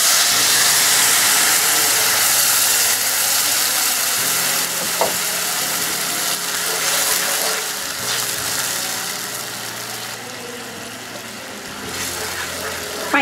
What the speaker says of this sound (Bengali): আলুটা ভাজা হয়ে গেছে, এর মধ্যে দিয়ে দিব 1 কাপ পরিমাণ পানি।